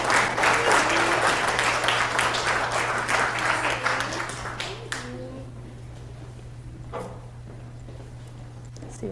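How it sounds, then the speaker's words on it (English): Audience applause at a Columbia astronomy public lecture, loud and dense at first, then tapering off into scattered claps, shuffling and a few voices over a steady low hum. "a round of applause"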